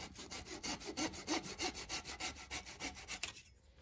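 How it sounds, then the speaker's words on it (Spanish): A hand saw cuts through a wooden dowel with rapid, rhythmic back-and-forth rasping strokes, close and steady, ending abruptly after a few seconds. "Voy a poner ese tarugo, vamos a cortar aquí"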